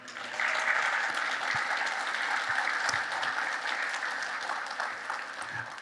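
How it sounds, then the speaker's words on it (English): Sustained audience applause at a charity auction for the Street Dog Coalition, a dense, steady wash of many hands clapping that holds evenly throughout, with scattered louder claps standing out near the front. "give them a round of applause right now"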